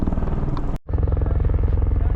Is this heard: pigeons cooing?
no